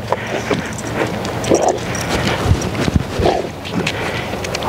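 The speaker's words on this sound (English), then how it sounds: "the wind's blowing hard left to right" Strong wind gusts blowing left to right across an open outdoor tracking field, a steady broadband rush with louder surges, no talk.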